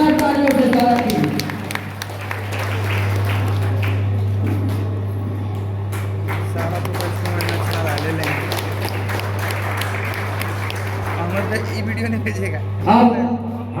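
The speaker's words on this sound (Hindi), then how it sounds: "जोरदार तालियों से स्वागत कीजिए" Loud sustained applause from a gathered crowd welcoming a district president at a political social justice discussion meeting, continuous clapping under a steady electrical hum, with a brief louder burst near the end.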